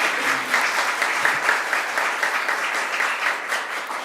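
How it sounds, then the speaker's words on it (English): Steady applause from a crowd, a dense wash of clapping that holds at an even level throughout, with no voices standing out. "Let's give them another round of applause."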